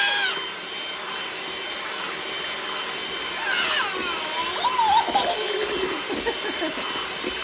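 An electric hand mixer whirs steadily through birthday cake batter in a home kitchen, a constant buzzing drone with small changes in pitch, while a voice and an adult's chatter rise over it.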